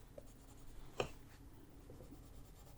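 A colored pencil presses hard on paper while burnishing and blending on a coloring page, giving faint, close scratching with one sharper scrape.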